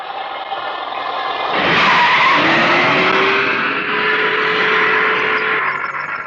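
A car brakes hard, its tires skidding and squealing loudly for several seconds in a long rising screech over engine roar, close and alone.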